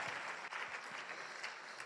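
Seminar audience applauds, a dense, even wash of clapping hands held at a steady moderate level for the whole stretch with no voices over it.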